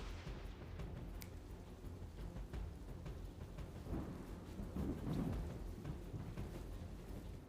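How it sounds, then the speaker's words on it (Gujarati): Steady afternoon rain pours down in Suigam, Vav-Tharad district, Gujarat, a dense even hiss with low rolling thunder rumbling underneath throughout, fairly faint and with no voices. "ફરી આજે બપોર બાદ વરસાદની શરૂઆત થઈ ગઈ છે"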